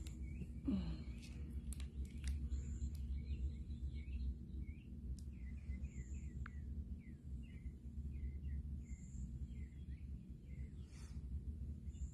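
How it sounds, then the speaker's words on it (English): Small birds chirp and twitter outdoors in a quiet shaded yard, a scatter of short faint calls over steady low background hum, with no one talking. "the birds sound nice"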